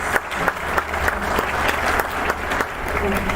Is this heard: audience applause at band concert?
yes